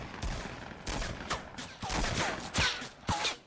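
Gunshots in a Fortnite match: a quick burst of about eight crisp, fairly close shots in an irregular rhythm, with no voices over them.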